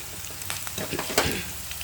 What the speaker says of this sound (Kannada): ಈರುಳ್ಳಿ ಒಂಥರ ಸ್ವಲ್ಪ ಚೆನ್ನಾಗಿ ಬೇಯಲ್ಲ ಅದು ಎಣ್ಣೆ ಒಳಗೆ ಚೆನ್ನಾಗಿ ಹುರ್ಕೋಬೇಕು